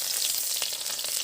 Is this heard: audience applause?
no